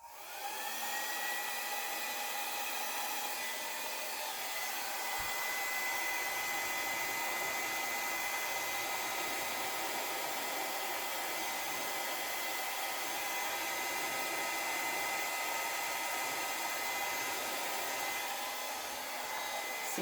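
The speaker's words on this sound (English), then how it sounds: "these blow dryers, I absolutely love them." A blow dryer pushes acrylic pour paint across a canvas, a constant loud rushing whir that runs unbroken for the whole stretch, with no voices.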